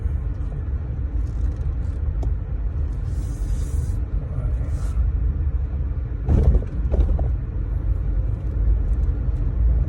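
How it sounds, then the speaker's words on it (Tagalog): A car air conditioner runs with a steady low rumble and whir that fills the car interior throughout, constant and close, with occasional faint clicks and shifts. "Pasensya na kayo kung naririnig niyo yung tunog ng aircon."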